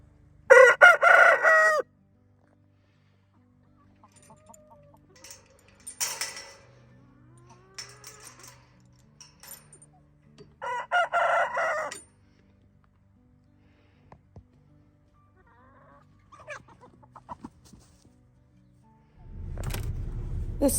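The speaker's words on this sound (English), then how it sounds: "And even the chickens are cold." On a frosty winter morning, two loud rooster crows ring out, then quieter chicken clucks and a third crow, with a low rumble of handling noise at the end.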